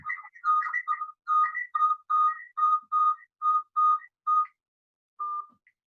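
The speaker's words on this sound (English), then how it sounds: "Let me turn off my phone." A mobile phone being switched off gives a short run of about a dozen clear electronic chirping tones in quick, even succession, loud and close, followed by a pause and one last tone, with no talking.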